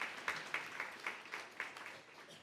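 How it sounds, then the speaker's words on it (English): Indoor audience applause welcoming a guest at an Indigenous cultural markers grand opening, a faint, short burst of scattered hand clapping with distinct individual claps, heard at a distance. "You can clap, yeah, welcome."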